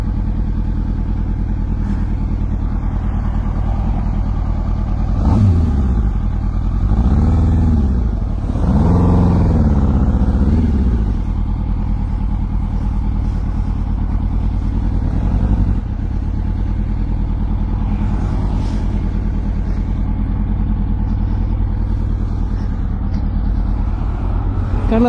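A Yamaha R1 1000cc superbike with a loud exhaust revs hard in a few sharp bursts from a steady rumbling idle. The bike is close and loud, and no one talks.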